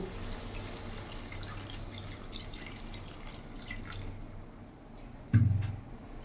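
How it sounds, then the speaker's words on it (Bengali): Water is poured into a pot of simmering cauliflower and potato curry, a brief splashing gush near the end after a quiet, low background. "এবার আমি পরিমাণ মতন জল দিয়ে দেবো।"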